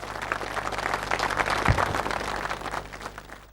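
Audience applause opens a song concert for a folk singer, a dense wash of clapping that swells mid-clip and slowly thins out, with a steady low hum beneath.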